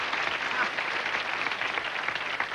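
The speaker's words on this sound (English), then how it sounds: "Give them a round of applause," Steady, dense applause from a television studio audience on a Young Talent Time show, a continuous wash of many hands clapping at even loudness with no break.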